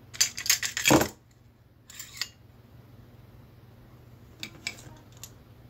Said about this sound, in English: Just going to push with this slide that way while holding onto the barrel and just let the bolt fall out.